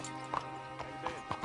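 Horse hooves clip-clopping in Red Dead Redemption 2, a few soft spaced hoof strikes over a low steady background hum, fairly quiet and close.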